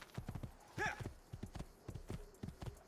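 Horse hooves in Assassin's Creed II, a steady clip-clop of hoofbeats at a trotting rhythm with a short whinny near the start, fairly quiet and close.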